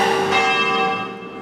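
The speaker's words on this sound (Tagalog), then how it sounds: "Pinatunog din ang kampana sa Quiapo Church bilang pagdalamhati sa pagpanaw ni Pope Francis." The bells of Quiapo Church in Manila toll in mourning for Pope Francis, one loud sustained ring with a rich metallic hum that slowly fades.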